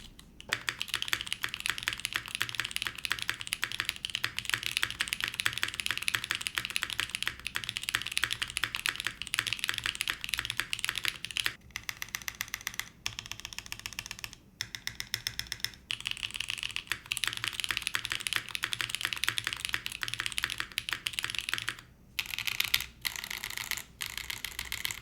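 Fast continuous typing on a Univers 70% keyboard fitted with cream soda switches on an FR4 plate: close, dense, even clacking with a few short pauses and no voices.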